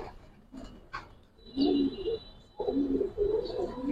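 Giribaz pigeons at a loft give low, throaty coos in a few soft rolling phrases, close by in an otherwise quiet space.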